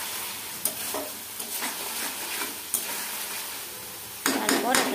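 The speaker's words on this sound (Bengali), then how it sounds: "এবার দিয়ে দেবো এটি হরা মটর। এটাকে ভালো করে মিশিয়ে নেব।" Green peas are stirred into a spice mix in a pan, giving a soft continuous sizzle broken by repeated scraping strokes of a spoon, with a brisker cluster of scrapes near the end.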